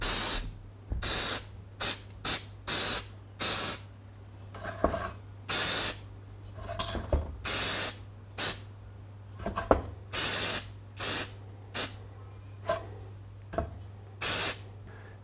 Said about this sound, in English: I've given it another 10 minutes with a final spray of the gasket stripper